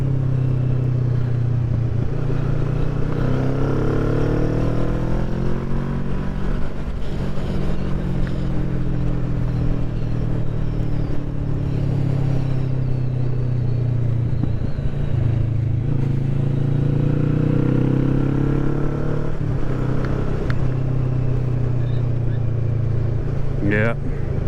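A Kawasaki Vulcan 650 S motorcycle drones steadily on a ride along country roads in West Kent, its engine note rising and easing with the throttle under wind noise, with a rider talking at times.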